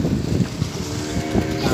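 A speedboat motor drones steadily on the water, a close, continuous engine hum with wind buffeting the microphone.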